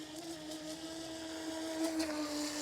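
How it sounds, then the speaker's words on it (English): Brushless motor of an Eachine EBT04 RC speed boat spinning up with a steady high-pitched whine that rises slightly in pitch and loudness over faint water and background noise, no speech. "You can definitely hear that brushless motor spinning up"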